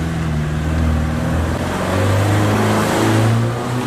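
An aftermarket Ganador muffler on a Subaru Impreza Sport in Gran Turismo gives a continuous mid-speed exhaust hum, loud and near, rising gently in pitch toward the end with no talking over it.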